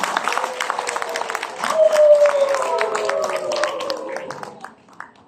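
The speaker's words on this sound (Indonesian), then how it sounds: "Boleh tepuk tangan untuk aplikasi Nusantara?" Audience applause at a parliament launch of a new app, a scattered burst of clapping that swells briefly and fades, with voices and some tonal sound mixed in.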